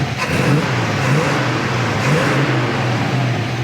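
A 1940 Chevrolet Coupe engine revs up loudly nearby, a steady deep rumble that swells and holds without any talking.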